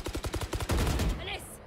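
A quick burst of rapid gunshots in the tactical shooter Valorant, about eight close, evenly spaced cracks followed by a louder blast and a fading tail.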